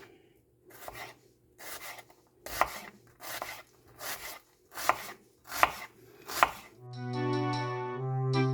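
A sharp knife chops through celery on a cutting board in about eight evenly spaced, crisp strokes, close and clear, with a brief tonal sound at the end.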